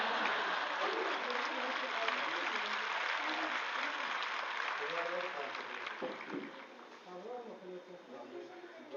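Audience clapping steadily at a Shiksha Mahakumbh speech, a dense sustained wash of applause with a voice talking over it, fairly faint and distant.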